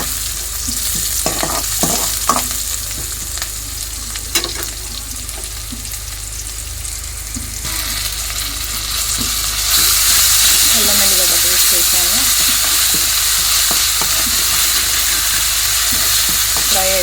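Green chillies, onions and garlic tempering in hot oil for keema: a loud, continuous sizzle and hiss that grows stronger partway through, with a few utensil clinks and scraping stirs, and a voice speaking at moments beneath it.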